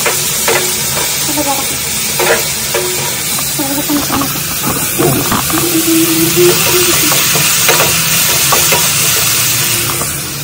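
Green chillies and spices fry loudly in hot oil for poha, a bright continuous sizzle with stirring scrapes and clinks from a utensil, close and steady throughout with no talking.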